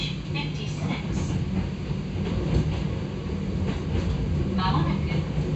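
Resistor-controlled Hakone Tozan Railway 2000 series train running, heard from on board as a continuous rumbling ride with wheel and track noise and faint motor tones rising and falling.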